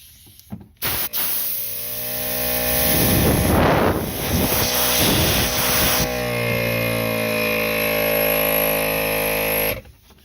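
An ARB air compressor fitted to a Polaris RZR XP 4 starts up with an abrupt stutter, then settles into a loud, steady motor whine and hum for several seconds before cutting off sharply.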